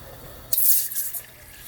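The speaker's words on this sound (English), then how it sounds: "we're going to add our water at this point." Water pours into a cooking pot on a stove, a sudden bright splashing rush that settles into a steady, close stream over a low background hum.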